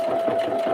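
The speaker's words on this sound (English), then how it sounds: "And then let's sew up to that point" A sewing machine runs steadily as it stitches through fabric, a continuous close mechanical whir with a sustained tone, heard alone with no voices.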